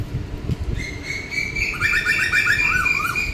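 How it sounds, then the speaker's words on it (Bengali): Several kinds of birds call on the bank of the Ganges in the morning, with clear repeated chirps and a rapid trilling series of notes, fairly close, over a low rumble of wind and handling. "এত সুন্দর পাখির ডাক শুধু কোকিল না অনেক ধরনের পাখির ডাক শুনছি"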